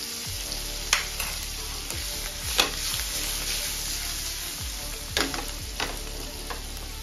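Salt, Kashmiri red chili powder and turmeric sizzle in hot oil in a pan while paneer fries, a steady frying hiss punctuated by a few sharp stirring scrapes, with no voices.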